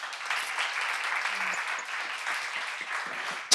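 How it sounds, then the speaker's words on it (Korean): A church congregation at a Korean seminar applauds together in a steady, even patter of many hands at moderate distance, ending with a sudden sharp knock. "하나님께 박수 한번 쳐봐요."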